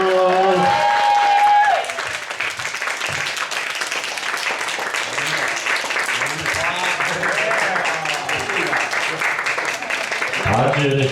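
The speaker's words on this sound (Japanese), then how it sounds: "盛大な拍手をお願いします。" An audience at a Michael Jackson tribute dance event applauds in a sustained wash of clapping that swells after a brief loud start, while a voice speaks over it.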